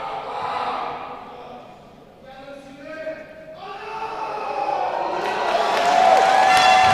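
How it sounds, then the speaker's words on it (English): Crowd at the 2016 IPC Powerlifting World Cup in Dubai reacting to a men's +107 kg world record attempt at 296 kg, the cheering swelling loudly in the second half with a shrill whistle, while a voice talks over it. "Well, the crowd likes it."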